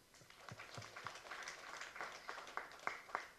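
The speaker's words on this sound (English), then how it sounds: "Give applause." A small audience at an evening student session gives scattered, faint applause. A handful of distinct individual claps ring out over a soft background clatter, growing slightly more frequent toward the end.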